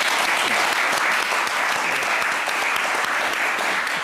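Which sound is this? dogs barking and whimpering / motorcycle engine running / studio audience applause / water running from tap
studio audience applause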